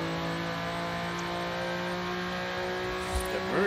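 Race cars accelerating in Forza Horizon 5, steady droning engine tones holding at a moderate distance before a brief rising rev near the end.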